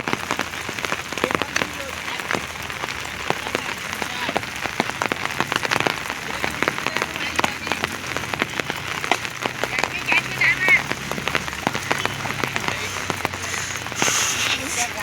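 Steady rain falling outdoors and pattering on surfaces, with sharp crackling drop hits scattered throughout and faint voices now and then under the continuous wash.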